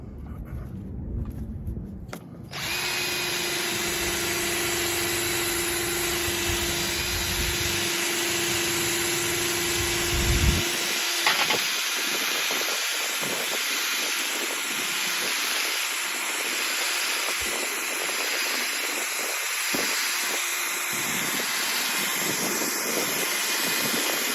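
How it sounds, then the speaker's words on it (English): A drill buffing polish onto vintage brass timbales gives a steady, loud high-pitched whine for over twenty seconds after a brief low rumble, with a faint hiss throughout. "And then hit it with the drill."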